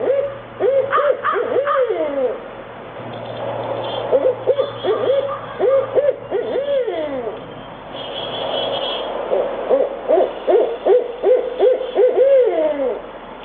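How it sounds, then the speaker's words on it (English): A barred owl hoots and caterwauls in rapid, wavering series, with bursts of rising and falling calls separated by short gaps, loud and close, with distorted, dog-like yelping tones. "Actually, it's called barred owl."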